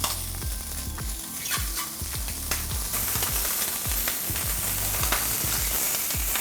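Chicken thighs sizzle and fry in a dry, seasoned carbon steel pan with no oil, a steady close hiss punctuated by sharper crackles and a few dull knocks of pieces being placed, with no talking.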